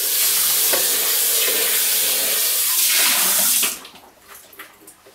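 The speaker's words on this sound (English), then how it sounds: "So again, I'm just rinsing it with a little water." Water swishes and splashes inside a blender jar during rinsing: a loud, steady, close rush for about three and a half seconds, then it cuts off, leaving faint clinks and drips.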